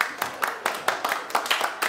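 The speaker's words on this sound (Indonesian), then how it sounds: "tepuk tangan buat Paul" Quick, rhythmic clapping from a crowd at a combat showbiz weigh-in and press conference, steady bursts a few times per second, fairly close.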